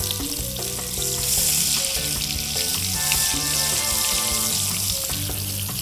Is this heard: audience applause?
no